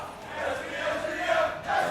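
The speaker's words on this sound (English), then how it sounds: "the crowd is getting loud" Crowd at a Super Smash Bros. tournament swelling into loud, sustained cheering and shouting, building in waves over a couple of seconds.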